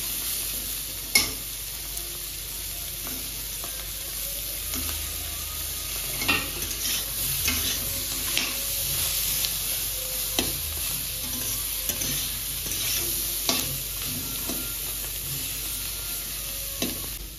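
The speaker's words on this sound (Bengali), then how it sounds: "তেলটা গরম হয়ে গেছে, আমি এবার চিংড়ি মাছগুলো একটা একটা করে ভেজে নেব।" Oil sizzles steadily throughout, with scattered sharp pops and crackles as shrimp fry in a hot pan; no voices.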